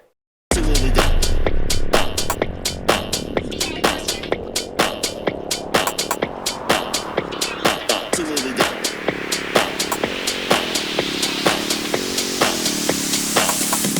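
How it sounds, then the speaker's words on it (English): A white noise riser with a ping-pong delay tail, built for a music buildup, sweeps upward under a run of sharp rhythmic hits that echo side to side. It plays loud and alone for the whole stretch, with no voices. "it'll give a little cool little tail at the end of the white noise"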